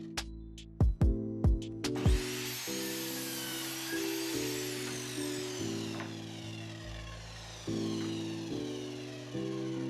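Wooden boards being cut to size for a herb tray, giving a steady rasping hum with repeated strokes under a low droning tone, preceded by a few sharp knocks at the start; fairly close and moderately loud, with no talking.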